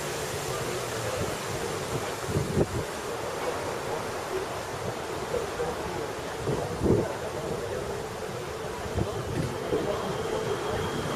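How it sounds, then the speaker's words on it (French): Steady, broad wind noise rushes continuously throughout, with a few low thumps and gusts rising briefly above the constant roar. "le vent de hurler son histoire par les conduits de cheminée, les portes et les fenêtres mal fermées"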